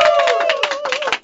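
An audience at a live event breaks into brisk, close applause, with a sustained vocal whoop or cheer riding over the clapping for most of its length before it thins out.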